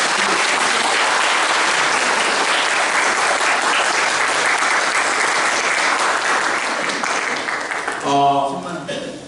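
A book launch audience applauds for their teacher with a sustained burst of dense clapping that runs for several seconds, then thins out as a voice begins to speak over the final moments.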